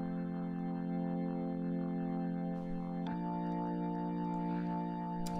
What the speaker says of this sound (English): The organ, I believe, yeah, it's an Analog Lab patch.